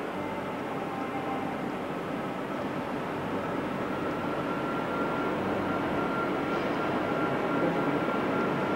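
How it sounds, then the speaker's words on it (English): A Baguley-Drewry four-cylinder chain-driven diesel-mechanical locomotive from an MOD ordnance depot runs steadily, a dense, continuous engine drone with a low rumble and no pauses, fairly close and without voices. "This Baggerly Drury four-cylinder chain-driven diesel mechanical locomotive is an example of a type which spend their working lives within one of the MOD's ordnance depots"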